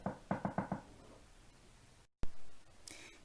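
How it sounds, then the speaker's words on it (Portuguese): Four or five quick, crisp knocks rap on a door close by in an even rhythm, then quiet follows before a short bump and a brief high squeak. "Pouco depois, Chapeuzinho chegou e bateu a porta."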